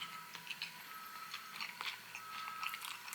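Someone bites into a Popeyes crispy chicken burger in Jakarta, Indonesia, producing close, quiet crunches and chewing with irregular crisp snaps over a few seconds.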